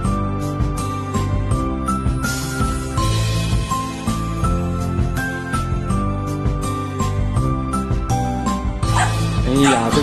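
Two mixed-breed dogs barking at a large golden retriever, sharp repeated barks and yips over steady music, with people talking.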